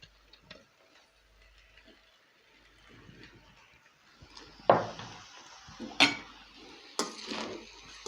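Rice being added to a cooking pan for egg fried rice: a few distinct clinks and scrapes of a utensil against the pan near the end, following quiet, faint rustling.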